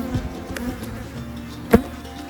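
Honeybees hum steadily around an open hive during a June inspection, a soft close buzzing drone with a brief sharp knock near the end, no speech.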